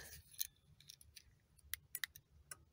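Diesel air heater giving off a scatter of sharp, faint clicks and ticks, several brief irregular snaps spread across a quiet background, no voices.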